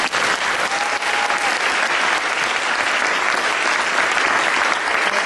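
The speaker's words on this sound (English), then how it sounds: "We should give them a round of applause." Sustained, loud crowd applause at a rally against police brutality, a thick even wash of many hands clapping for over five seconds without letting up, with no speech on top.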